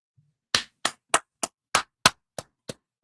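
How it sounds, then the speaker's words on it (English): Nine sharp, evenly spaced hand claps ring out loud and close, each a crisp isolated smack in a short burst of applause with nothing else around them. "I applaud you all, you absolute superstars."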